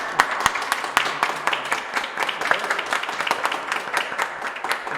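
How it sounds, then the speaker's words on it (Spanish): Audience applause at a book launch event on education, a dense steady patter of many hands clapping, moderately loud and continuous throughout. "Cuando puedan aplaudimos."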